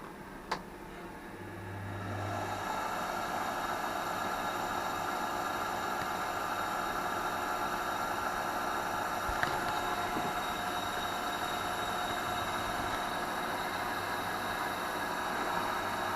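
A woodturning lathe with a piece of wood mounted spins up after a short sharp knock, settling into a steady, even motor hum and whir that holds at a constant level, with no talk.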